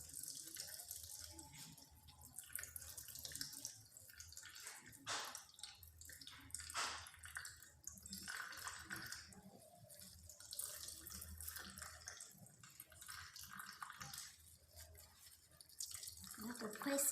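Fresh noni juice drips and trickles from pressed pulp, a steady wet patter that runs throughout alongside fainter handling noise.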